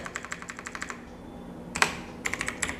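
Keys clatter on a computer keyboard while entering an Excel formula, a quick run of close, crisp taps, a brief pause, then a louder burst and a few more strokes.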